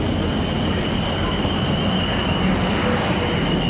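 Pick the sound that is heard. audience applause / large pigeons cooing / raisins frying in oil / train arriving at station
train arriving at station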